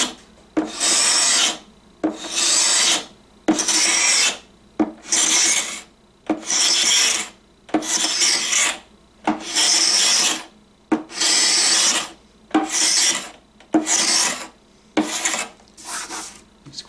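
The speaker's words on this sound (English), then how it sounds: "it's actually very easy to just run this and just kind of scrape that off." Hand scraper drawn over the worn finish of a 1939 Sentinel wooden radio cabinet, about a dozen loud, close rasping strokes in a steady rhythm, each separated by a short pause.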